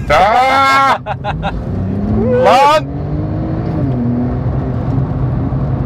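A 2011 Porsche 911 Turbo S engine revs up loudly in rising bursts, then settles into a steady drone as the car pulls away. Someone shouts briefly during it.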